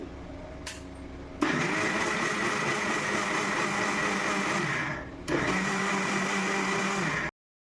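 A mixie grinder jar grinds soaked foxtail millet with water into a fine idli and dosa batter. A loud, steady whirring motor runs in two bursts with a brief dip between them, then stops abruptly.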